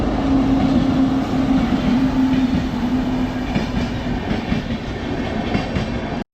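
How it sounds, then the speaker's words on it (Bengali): Train rolling past a busy railway level crossing, a loud, continuous rumble with rhythmic wheel clatter on the rails and a sustained tonal whine, heard close throughout with no speech. "ট্রেন"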